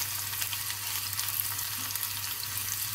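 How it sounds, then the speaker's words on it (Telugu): Dried red chillies frying in oil for a dal tempering, a soft steady crackling sizzle over a low hum, with no voices. "వేగనట్టు ఎండుమిర్చి వేగితే చాలా టేస్ట్ వచ్చింది"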